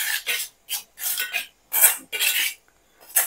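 A spoon scraping and stirring hair dye mixture in a bowl, rhythmic gritty rasping strokes in short bursts with pauses between, close and fairly loud.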